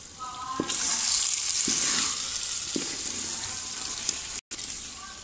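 Chicken liver with a little chicken and salt frying in a pot for kaleji pota pulao, a steady close sizzle with a few soft stirring knocks and a brief break near the end, no talk.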